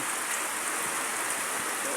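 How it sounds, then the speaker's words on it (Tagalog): Heavy rain pouring down in Kauswagan, a steady, dense hiss, loud and continuous with no gaps. "Kusog kayong ulan diri sa Kauswagan."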